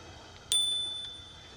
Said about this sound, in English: so we're gonna hit them with the bell